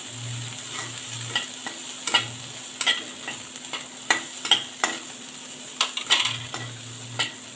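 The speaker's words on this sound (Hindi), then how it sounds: "इसको मिक्स कर लेंगे अच्छे से" Turmeric mixture stirred in a pan for bread poha: a recurring series of sharp spoon-on-metal clicks and scrapes over a light sizzle and a low steady hum, close by with no voices.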